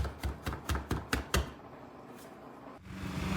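Vegetables are chopped with a knife in a home kitchen, six quick sharp blade strikes in an even rhythm, followed by quiet background hum.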